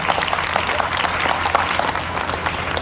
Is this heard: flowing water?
no